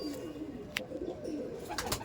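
Old Madras pigeons coo softly and continuously at close range, a low murmuring drone broken by a few brief sharp clicks.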